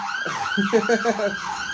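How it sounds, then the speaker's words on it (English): An ambulance or police car siren sweeps past, its wailing tone rising and falling loudly and steadily through the whole stretch, with no talk over it. "the loud ambulance or police car goes past"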